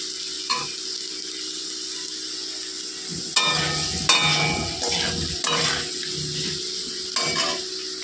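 Spices with turmeric powder fry and get stirred in a pan, giving a steady sizzle broken by several louder scraping stirs and clatters of the utensil against the pan.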